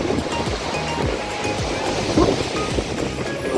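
Steady wash of sea waves rolling and breaking nearby, a constant surf roar with wind noise and low rumbles underneath.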